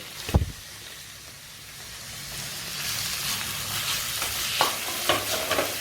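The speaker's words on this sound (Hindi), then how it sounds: "प्याज को हम धीमी आंच पर ही भूनेंगे" Finely chopped onion sautéing over low heat with green chilli for paneer bhurji, a steady hiss of frying that builds after an opening clatter, with occasional stirring knocks against the pan.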